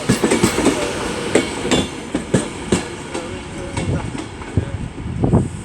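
A train on a service to Glasgow pulls into Crewe station, its wheels clacking in a rhythmic series of sharp, close knocks over rail joints above a rumbling background.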